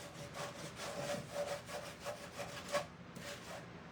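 Close, steady back-and-forth rubbing of a light, worn sanding block over a wooden gallery wall piece, a quick rhythmic series of gritty strokes that fade out near the end, with no talking.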